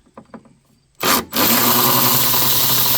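Removing a 10mm bolt from a car headlight assembly during an LED headlight upgrade: a few light taps and clicks, then a loud, close power-tool whir that bursts, pauses briefly and runs on steadily.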